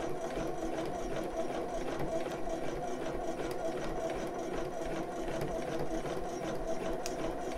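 A sewing machine hums continuously at moderate speed while stitching a bra, a close, even mechanical drone with faint rattling throughout.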